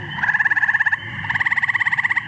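An eastern gray tree frog gives two loud, close musical trills, each a rapid run of evenly spaced pulses, separated by a short gap.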